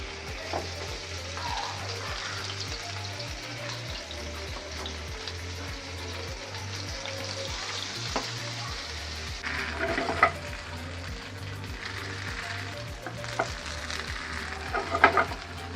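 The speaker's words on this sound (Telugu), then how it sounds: "ఈ పీసెస్ని కొంచెం ఆయిల్లో ఫ్రై చేసుకుందాం" Steamed mandi chicken pieces fry steadily in oil, a continuous close sizzle with occasional louder crackles and spatters, no voices over it.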